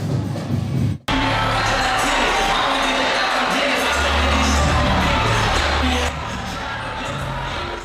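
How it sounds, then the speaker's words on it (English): A packed crowd in a school gymnasium keeps up loud, continuous cheering and shouting at a high-school stepping show, with no break apart from one abrupt cut. "the crowd was packed inside the gymnasium"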